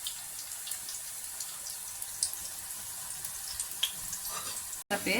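Onion pakoda batter deep-frying in hot oil, a steady close crackling sizzle with no talk over it.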